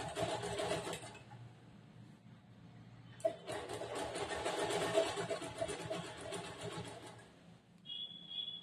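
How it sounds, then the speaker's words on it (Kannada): A sewing machine stitches a churidar top, running in a steady, close mechanical whir. It pauses briefly, then restarts and continues at a constant pace before slowing near the end. "ಜೋಡಿಸ್ಕೊಂಡು ಇಲ್ಲಿಂದ ಇವಾಗ ಮತ್ತೆ ಸ್ಟಿಚ್ ಹಾಕಿ ಸ್ಟಾರ್ಟ್ ಮಾಡ್ತೀನಿ."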